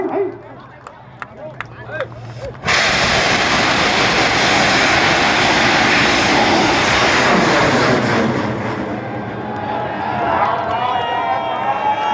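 A bamboo rocket launches at the Bun Bang Fai rocket festival in Nong Haeo village, Nong Hi district, Roi Et, with a sudden loud, sustained roaring rush that fades after several seconds. A crowd and voices are heard before the launch.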